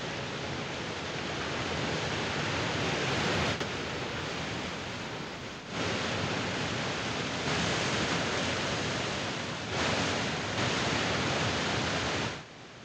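Steady, roaring rush of falling water fills the whole clip, broadband and loud, with brief dips in intensity but no voices.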